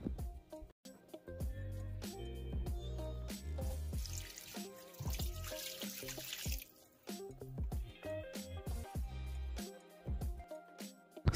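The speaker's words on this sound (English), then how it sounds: "add little water before placing your moimoi on it" Water runs and splashes into a cooking pot for steaming moimoi, with clinks and drips in close, uneven bursts.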